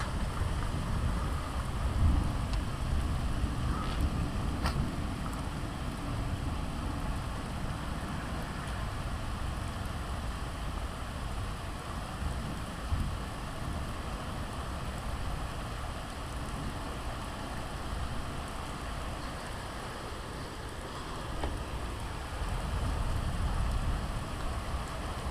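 Steady early-morning thunderstorm rain falls just outside a garage door, a dense, even wash of drops with a low rumbling undertone that holds for the whole stretch, with no voices.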